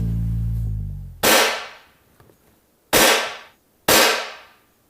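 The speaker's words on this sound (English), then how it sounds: "we'll take 10 shots and see how powerful this rifle is with the JSB Jumbo" Three sharp, loud shots from a Beeman HW100 PCP air rifle firing JSB Jumbo Exact pellets, each a crisp crack with a quick decay, spaced unevenly, following a low humming tone at the start.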